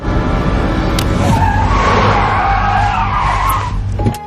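A car skids with a loud, sustained tire screech as it nearly strikes a staggering man in an Indian psychopath thriller film, the squeal rising and holding for about three seconds over engine rumble before cutting off.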